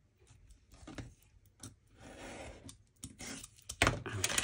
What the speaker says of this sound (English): So we're going to cut it off on that line right there.